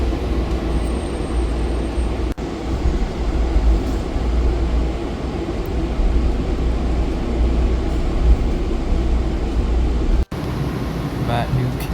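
Interior of a DC Metro Orange Line train, a constant low rumble and hum of the railcar in motion, with two brief sharp dropouts and faint high squeals near the end.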